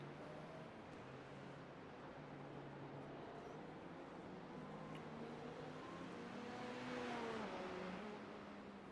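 A simulated race car engine from an endurance racing video game at Long Beach drones steadily throughout, with shifting tonal whine and a brief swell of revving near the end, no voices present.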